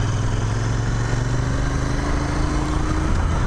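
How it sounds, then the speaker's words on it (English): Motorcycle engine idling with a steady, low exhaust note, close and continuous at moderate loudness, no voices over it. "It's got a good exhaust note."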